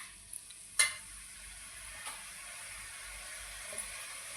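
Meat frying in a pan for chicken curry gives a faint, steady sizzling hiss with a few sharp clicks and pops.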